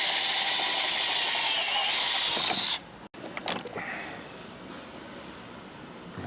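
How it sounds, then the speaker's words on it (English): A power drill whirs loudly for a few seconds drilling out rivets on a Land Rover Discovery 3 tailgate, then stops abruptly, followed by quieter clicks and handling noises. "I've got to drill out all of these rivets"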